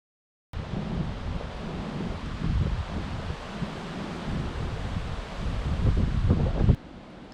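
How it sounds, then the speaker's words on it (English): Strong gusting wind roars loudly and close into the microphone, rising and falling in rumbling surges for several seconds before cutting off, with no talking. "This is some epic wind."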